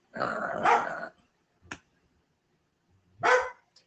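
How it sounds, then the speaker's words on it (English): A dog gives a loud, rough bark followed by a short sharp yip and then another bark, close and indoors with no talking. "When you bark, nobody can hear me talk unless I yell."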